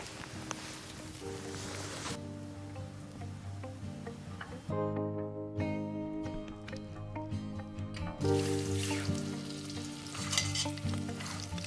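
Food sizzling and frying steadily in a pan while dinner, a Thai green dish, is cooked outdoors at a Michigan campsite, with occasional stirring and scraping throughout.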